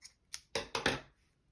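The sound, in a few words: scissors cutting crochet yarn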